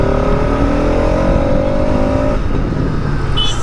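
A Bajaj RS200 motorcycle engine, a 200cc single with a six-speed gearbox, revs loud and close in a continuous roar that rises in pitch and then falls back.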